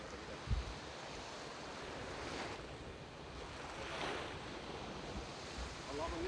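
Surf breaking at Hat Chao Samran beach in Phetchaburi, a steady wash of waves on the shore with gentle swells of rolling noise and some wind buffeting the microphone, no voices.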